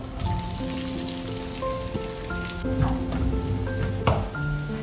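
Four finely chopped onions fry in hot coconut oil in a pan, giving a steady, close crackling sizzle with a few stirring clinks and some faint tonal sounds behind it.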